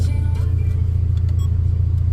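A Subaru Impreza GC8 idles with an aftermarket muffler, louder than stock, producing a deep, steady, close exhaust rumble with a throbbing low pulse and no revving.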